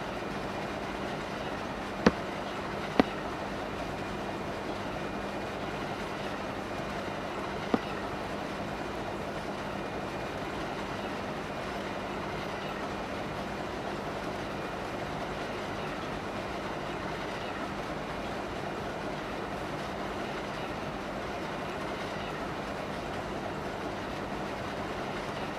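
A train runs steadily on rails, a constant rumbling roll with a low hum and a few sharp clicks early on, continuing without voices.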